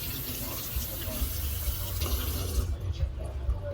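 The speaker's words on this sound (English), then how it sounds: "You've got to rinse the vegetables before we start." Tap water runs steadily into a kitchen sink as vegetables are rinsed, a continuous splashing gush that ends near the close, with talking over it.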